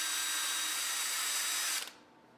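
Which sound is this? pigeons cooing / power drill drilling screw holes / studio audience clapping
power drill drilling screw holes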